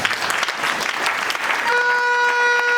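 Steady, loud applause from a church congregation praising the Lord during a sermon, sustained throughout, with a sustained tone joining near the end.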